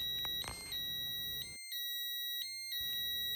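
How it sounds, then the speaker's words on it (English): A Pyronix Enforcer intruder alarm sounds during a code default, giving a loud, steady high-pitched electronic tone that cuts out briefly midway and then resumes. "your alarm will go off for exactly a minute"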